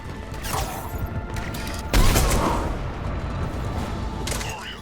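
Cannons firing in the video game Mass Effect 3, with heavy booming blasts and a sharp, loud burst midway over a constant roar of battle noise and machinery.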